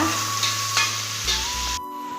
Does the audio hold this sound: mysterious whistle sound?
no